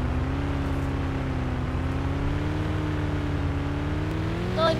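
A PlanetSide 2 vehicle engine drones steadily as it drives, a low humming whir that holds a constant pitch, close and alone with no talk.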